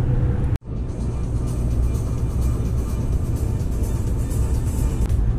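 A DAF CF Euro 6 440 hp truck engine pulls under throttle while nearly empty, a loud continuous diesel roar with dense cab rumble after a brief knock at the start.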